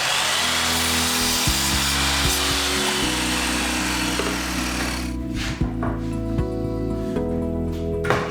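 A saw cuts through wooden side trim pieces for a cabin, a loud continuous rasping cut that thins out near the end, with no talking.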